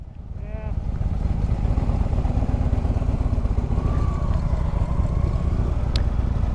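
Harley Road Glide and Kawasaki Vulcan 900 motorcycles running side by side, a loud, steady low engine rumble that carries through the whole stretch with a brief voice near the start.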